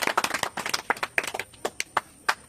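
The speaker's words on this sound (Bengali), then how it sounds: "সবাই হাততালি।" Children clapping their hands together during a classroom quiz game, a quick burst of sharp, uneven claps that thins into a few scattered final claps.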